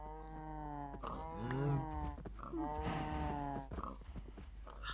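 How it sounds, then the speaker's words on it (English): Cattle in the FTB Monster video game moo repeatedly, several long, drawn-out calls overlapping one another at close range, with no talking. "Those cows are getting on my last nerve."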